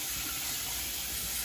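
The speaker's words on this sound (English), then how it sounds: "So right away, add the cold water." Cold water pours onto freshly boiled potatoes in a pot, a steady rushing gush that fills the short moment without pause or talk.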